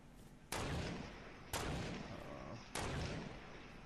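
Gunfire from squads battling in Fortnite Battle Royale: three loud, sharp blasts at roughly one-second intervals, each trailing into a long booming decay, with no talk over them.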